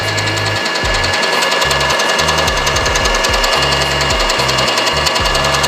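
A milling machine switched on for face milling with an end mill, its spindle running with a steady motor hum and shifting low tones that step up and down over a constant whir, with no voices.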